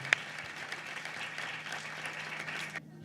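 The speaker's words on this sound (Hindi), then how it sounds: "जोरदार तालियां बजा दे खुदा के बर्रे के लिए" A church congregation applauds during a sermon, a brief burst of steady clapping at moderate distance that stops abruptly near the end, with a low hum underneath.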